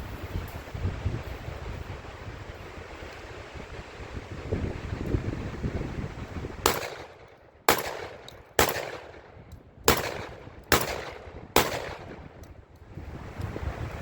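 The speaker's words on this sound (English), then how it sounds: "Right on. Shot them all pretty good, except for that little bobble on the lifter." A Panzer EG200 shotgun fires six loud, sharp shots in fairly quick succession outdoors, each blast followed by a short decay, after several seconds of steady wind noise buffeting the microphone.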